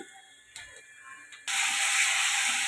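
Water poured into hot masala of chili, turmeric, cumin and coriander powder for chicken biryani bursts into a loud, steady sizzle after a quiet stretch of faint kitchen noise, and the hiss holds strongly to the end.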